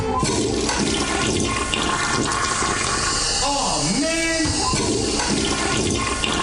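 A toilet flushes loudly and close up: a steady rush of water, then a swirling gurgle as the bowl drains, with faint voices in the background.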